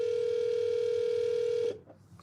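A steady single-pitch phone call tone, loud and sustained over low background hum, cutting off abruptly near the end.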